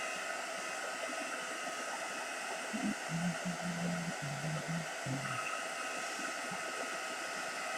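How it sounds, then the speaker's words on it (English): A hot air blower runs steadily on a Christmas bauble being assembled, a loud continuous rushing hiss throughout, with a brief hum-like pitch in the middle. "blast all the hot air on it again."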